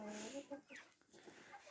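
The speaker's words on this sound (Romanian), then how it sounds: "Ia uitați cocoșele de conchinchina" Cochin chickens and roosters on a farmyard make a brief burst of close, nasal clucking and throaty calls, with a couple of sharper squawks.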